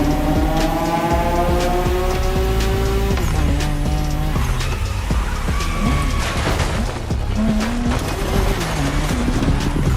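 A car drifts in the video game The Crew Motorfest, its engine revving and shifting loudly while tires squeal through long slides, a continuous close-up roar with no break.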